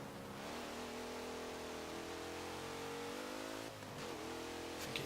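A 2018 Dodge Durango SRT engine in Forza Motorsport 7, a steady, droning mid-pitched rev that holds level, dips briefly, then resumes, with no talk over it.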